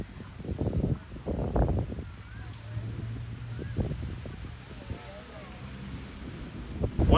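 Gusty wind buffets the microphone on a golf course, a rushing low roar that swells and eases, with someone talking over it.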